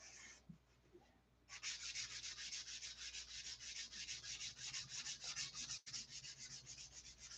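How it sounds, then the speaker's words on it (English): Close, rhythmic back-and-forth strokes of hand sanding, a steady scratchy rasp repeating after a short pause at the start. "Keep adding and sanding till it frosts over."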